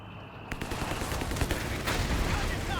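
Rapid machine gun fire in Company of Heroes 3, a dense broadband crackle of bursts that sets in after a brief lull and keeps up steadily amid other battlefield noise.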